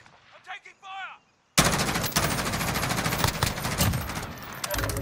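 Loud, dense video game gunfire, an automatic weapon firing in rapid sustained bursts up close, after a brief stretch of quieter voices.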